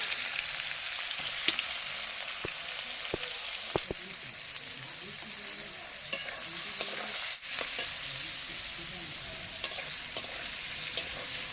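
Chopped onions frying in oil for a mutton curry, stirred steadily with a spatula, with a continuous close sizzle and irregular scraping clicks across the pan and no talking.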